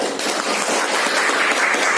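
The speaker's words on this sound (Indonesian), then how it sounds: "Amat tepuk tangan untuk Sani" Classroom applause for a student named Sani after he answers a pantun exercise: a dense, steady wash of many hands clapping together for two seconds, with no voices.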